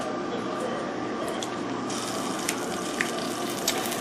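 A large pot of soup on a stove boils over, spilling onto the hot surface with a constant hissing sizzle and occasional sharp pops and crackles.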